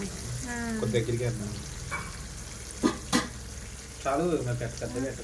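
Pieces of fish frying in oil in a pan, a soft sizzle running under lively conversation between people, with a couple of sharp clatters midway.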